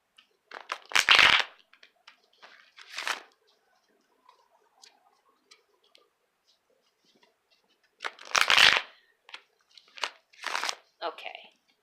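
Tarot cards being shuffled by hand in two bursts of riffling several seconds apart, with soft card ticks and handling noises in between, close and moderately quiet.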